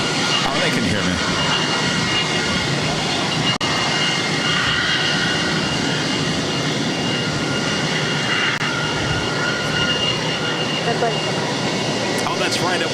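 Frontier Airbus A320neo jet engines roaring loud and close at Boston Logan airport, a steady broadband rumble and whine throughout, with people talking under the noise.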